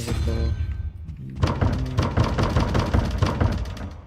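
A heavy door thuds shut in the video game Hogwarts Legacy, a dull low knock followed by a run of rapid tapping and clattering thumps, fairly loud and close.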